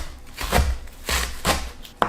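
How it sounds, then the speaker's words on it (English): Spring onion and chives being chopped with a knife on a board, three firm cuts spaced about half a second apart followed by a sharper final tap, close and clear with no talk. "Now let's cut the spring onion and the chives."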